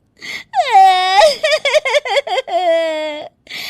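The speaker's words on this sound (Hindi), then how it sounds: "जोर जोर से रोने की आवाज आती है" A woman wails loudly in long rising cries broken by short sobbing gasps, close and emotional.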